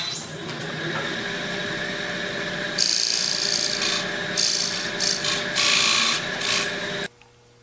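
A wooden piece is trimmed to fit with a tool, giving a steady rubbing, rasping scrape that runs for several seconds, louder in stretches, then stops abruptly, close by with no speech.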